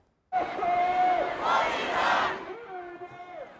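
A 100,000-strong protest crowd in freezing Toronto chants against Iran's regime, a loud, sustained roar of massed voices that rises and falls in rhythmic shouts before easing slightly near the end.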